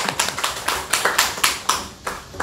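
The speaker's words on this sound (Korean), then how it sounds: "박수 한번 쳐주세요." A congregation claps during a church service, a dense burst of applause with repeated sharp peaks that rise and fall over a couple of seconds, close and fairly loud.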